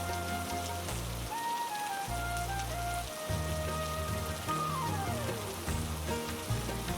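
Steady rain falls throughout, a dense continuous patter with tonal music playing over it at a moderate level.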